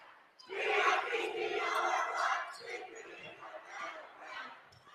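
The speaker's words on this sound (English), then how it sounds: "Nice to see the home crowd getting into a South boys basketball game" A home crowd at a high school boys basketball game shouts and cheers in a loud burst that stays strong for a couple of seconds, then breaks into scattered calls and chatter.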